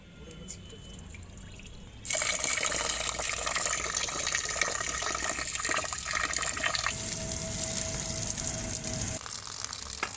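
Rice with masoor and moong dal being washed under running water, a steady loud gush and splash from the tap that starts after a couple of seconds and keeps going, close by.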